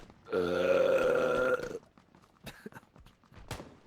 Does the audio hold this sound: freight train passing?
no